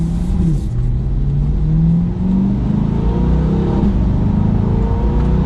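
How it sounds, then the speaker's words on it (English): A 2020 Chevrolet Corvette C8 accelerates hard, its exhaust rising in pitch through smooth gear changes with brief dips between them, a loud, steady roar heard from inside the car. "That exhaust sounds good already."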